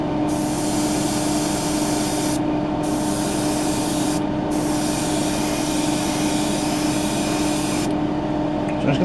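An airbrush or spray can hisses steadily while coating small parts of a 1/12 scale Tamiya Yamaha YZR-M1 model motorcycle, a broad continuous spray with a few short pauses, loud and close.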